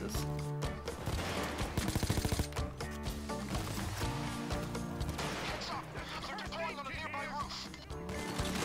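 Shotgun fire in the Payday 2 heist game, repeated blasts mixed with crashing, impacts and busy game music and effects, loud and dense throughout with a rapid volley in the middle.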